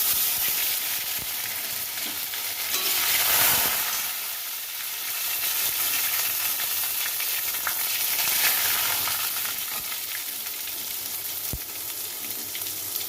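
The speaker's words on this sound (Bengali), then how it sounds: "এখানে আমি দিয়ে দিচ্ছি রসুন বাটা" Garlic paste frying in hot mustard oil in a wok, with dried red chillies and five-spice already in the pan; a steady, loud sizzle and crackle runs throughout, briefly swelling and settling, with occasional stirring scrapes.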